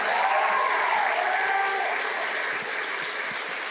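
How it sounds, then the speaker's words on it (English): Audience at a youth charity launch event in Singapore gives performers a warm round of applause, a steady, fairly distant wash of clapping that eases slightly toward the end. "Shall we give them another warm round of applause?"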